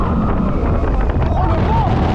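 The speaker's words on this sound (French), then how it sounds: "Oh le vent." Wind roaring steadily across an open amusement park ride at Parc Astérix, loud and buffeting throughout with voices shouting and talking over it.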